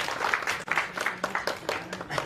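An audience at a theatre talk bursts into clapping, a dense, sustained patter of many hands lasting a couple of seconds at moderate loudness.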